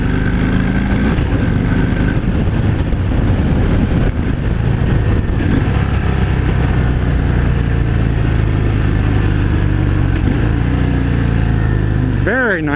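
A 2018 Harley-Davidson Fat Bob 114 motorcycle rumbles steadily while riding, its engine braking giving a continuous deep throb that holds almost unchanged throughout, with wind noise around it.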